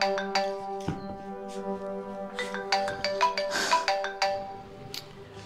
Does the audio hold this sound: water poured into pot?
no